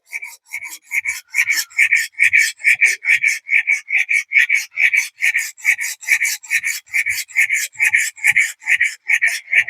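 A camp knife being sharpened with long back-and-forth strokes, a rhythmic rasping scrape repeated about three times per second, close and crisp, with no voices.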